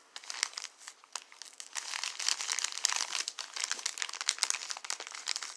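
A package tied with ribbon and sealed with stickers being opened by hand: close, continuous crinkling and rustling of paper wrapping with soft tearing snaps, fairly loud and without talk.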